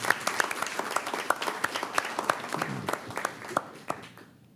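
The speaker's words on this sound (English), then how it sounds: "Let's give them another round of applause" A short burst of applause from a small group at a city commission meeting, scattered claps rattling for a few seconds before fading out.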